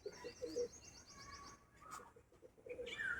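A pigeon recently brought from Kolkata gives soft, low coos close by, mixed with a few brief chirps from other birds and light background noise, with no voices.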